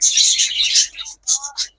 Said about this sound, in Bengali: এই যে পাশে দেখছি আবার ঘুঘু ডাকতেছে